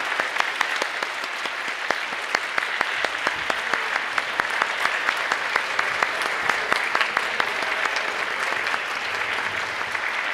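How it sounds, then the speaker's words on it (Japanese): A large crowd applauds steadily at the awards ceremony of a YOSAKOI Soran festival, a dense continuous clatter of clapping with some individual sharp claps standing out, holding at an even level throughout. "皆さん大きな拍手でお迎えください"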